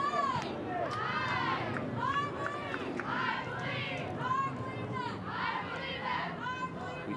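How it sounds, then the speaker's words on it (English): Spectators at a second-half soccer game shout and cheer for their squad, a steady mass of voices with rising whoops, continuous and moderately loud. "Maybe you can hear them on the audio, cheering on their squad."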